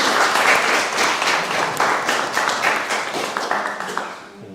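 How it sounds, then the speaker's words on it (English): An audience at a psychiatry and spirituality gathering applauds, a full, even wash of clapping that carries on steadily and tapers off at the close. "just a round of applause for Chris"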